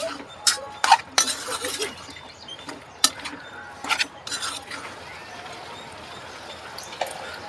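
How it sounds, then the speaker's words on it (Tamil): Tomato pieces stirred in a cooking pan with a utensil, giving scattered clinks and scrapes of metal on the pan, several sharper knocks early on, then softer continuous stirring. "தக்காளியை அப்படியே கிளறி விட்டுடலாங்க"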